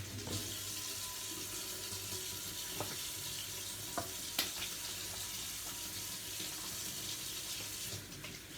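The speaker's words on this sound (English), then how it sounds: "I'm going to wash my hands." Tap water runs at a sink while hands are washed, a steady moderate splashing flow with a few brief clinks and knocks, and no talk.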